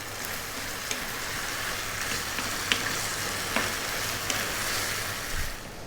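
Three cups of tomatoes fry in a beef curry pan, giving a low, steady sizzle with a few light clinks of a utensil, close and quiet.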